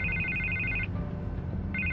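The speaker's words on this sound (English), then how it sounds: "I can't get the phone to stop ringing." A phone rings in a Batman Telltale game, a steady electronic trill that stops partway and then starts again, loud and alone with no talk.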